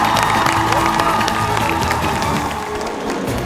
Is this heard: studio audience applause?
yes